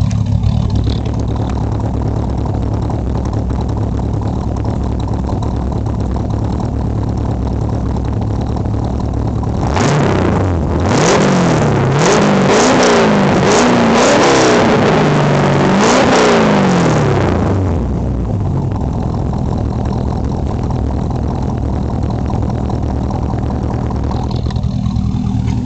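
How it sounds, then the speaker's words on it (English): A restored 1939 GMC restomod pickup runs loud and close through dual exhaust, idling steadily before a series of sharp revs climbs and falls in the middle, then it settles back to a rumbling idle. "Let you hear it from the dual exhaust."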